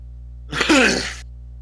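A single short sneeze, sharp and close, bursting out once over a faint steady hum in an otherwise quiet room.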